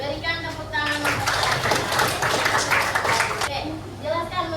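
A classroom of students claps together in applause, a steady rush of hand claps lasting a couple of seconds, with speech before and after it.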